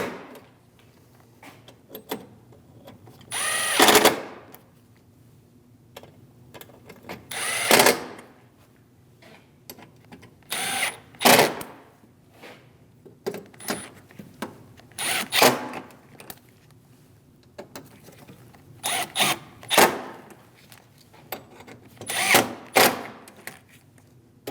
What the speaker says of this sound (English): Go down the line, snugging down all of the bolts.